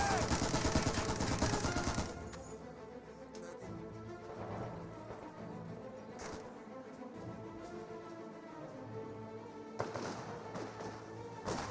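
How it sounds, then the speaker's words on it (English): Gunfire rakes Grenadiers in the Company of Heroes 2 strategy game: a dense, loud burst of rapid shots opens the scene, then scattered impacts, thuds and crashes follow over a rumbling battle bed, with another sharp volley near the end. "these Grenadiers are receiving quite a bit of fire at close range"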